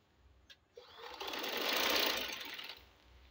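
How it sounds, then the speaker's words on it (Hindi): A sewing machine stitches trouser fabric in one short, continuous whirring run that swells to a peak and then fades, preceded by a couple of faint clicks. "यूँ सिलाई करते जाएंगे हम इसको।"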